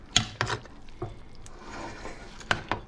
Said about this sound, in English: I'm gonna start mixing everything